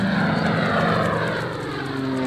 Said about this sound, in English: Now I am an aeroplane and this is how I sound.